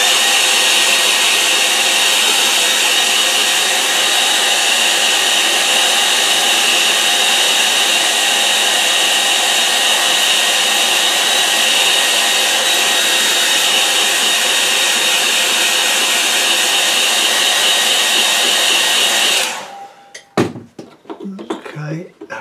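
A hair dryer blows loud and close, drying acrylic paint on unprimed coloured paper, roaring steadily for about twenty seconds before switching off, followed by a few clattering handling noises.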